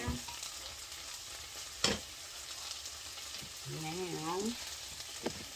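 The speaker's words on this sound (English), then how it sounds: "see our onion is starting to cook, starting to caramelize a little bit." Onion frying and caramelizing in a pan with chives and paprika sprinkled in, a steady close sizzle throughout, a few sharp stirring clatters, and a brief voice near the end.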